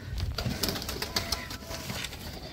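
Pigeons cooing in soft repeated throaty calls, close by, with a few sharper bird chirps and faint rustling among the birds.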